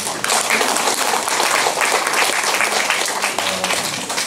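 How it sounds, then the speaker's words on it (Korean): Audience applause at the opening ceremony of a calligraphy exhibition, loud sustained clapping from a crowd filling the room, steady throughout with no talk. "여러분들 박수."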